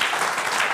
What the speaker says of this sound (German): für Mario Gomez, erstmal den Applaus